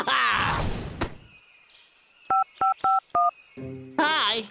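Cartoon telephone number being dialed: four quick, evenly spaced touch-tone beeps in the middle, framed by animated voices talking before and after.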